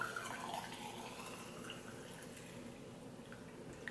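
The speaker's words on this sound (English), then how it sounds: "pour in our hot water" Hot water poured into a tea infuser holding loose black tea, a steady close trickling pour that runs continuously and evenly throughout.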